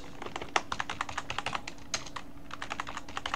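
A password is typed on a computer keyboard during a Salix Linux installation: quick, irregular clicking keystrokes, close and clear over a quiet background hum, with no talking.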